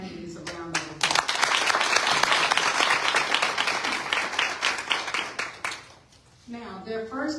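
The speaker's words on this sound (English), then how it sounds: "go ahead and give all 3 candidates a round of applause" An audience at a city council candidate forum applauds all three candidates: dense, loud clapping breaks out after a brief voice, sustains for several seconds, then fades, and talk resumes at the end.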